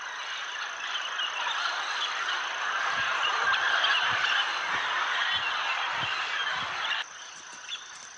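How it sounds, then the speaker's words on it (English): Big macaws call from a clay cliff in the Amazon rainforest, a loud continuous chorus of harsh squawks layered over one another, briefly thinning near the end. "the big macaws arrive."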